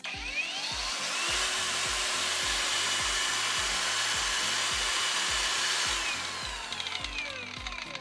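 A cordless 800-watt battery angle grinder runs at a raised power setting with a loud, steady, high motor whir and a pulsing low undertone for several seconds, alone with no voices.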